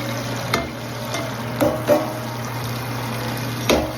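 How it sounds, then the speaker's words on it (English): Grain bed being stirred in a beer mash tun: soft wet sloshing and scraping with a few louder knocks of the paddle, close and steady over a low hum, no talk. "All I'm doing is stirring the grains up to get a better flow rate."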